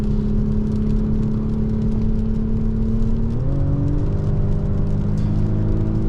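The engine of a 2024 VW Atlas Cross Sport SEL Premium R-Line four-cylinder pulling at about 2,500 rpm, a steady loud hum and rumble from inside the cabin whose pitch shifts partway through as it changes gear, with no talking.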